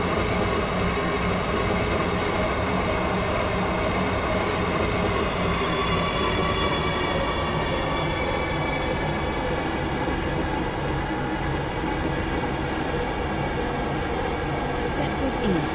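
A metro train in a video game rumbles steadily along the track, a continuous loud hum and rolling noise with a faint high whine near the end.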